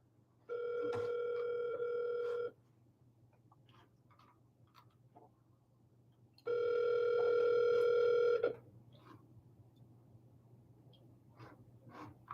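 A telephone call rings out through a handset before being forwarded to voicemail: two long, steady electronic ringback tones of about two seconds each, separated by a pause, with faint desk clicks and a low background hum.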